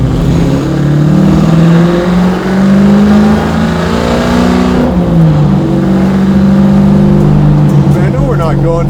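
A 1,000 HP Hellephant-powered Plymouth Cuda restomod drives along at moderate speed, its deep engine drone rising and falling with gear changes, loud and close throughout.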